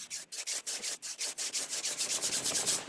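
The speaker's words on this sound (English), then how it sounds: "rubbing your hands and putting it over your eyes" Hands rub briskly together in a steady back-and-forth rhythm, about a dozen soft, dry swishing strokes that speed up slightly, close and quiet with no talking.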